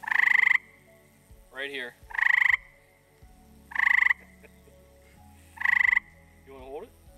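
An Eastern gray tree frog in Somerset County, Pennsylvania gives loud, trilled calls at night, four bursts spaced a second or two apart, with brief human voices speaking between them.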